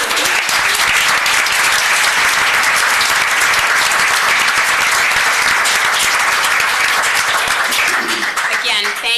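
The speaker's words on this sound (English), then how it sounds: "I think they deserve a round of applause." A room at a town zoning board meeting in Scarborough, Maine, breaks into loud, sustained applause, dense clapping that holds steady for several seconds before starting to thin at the end.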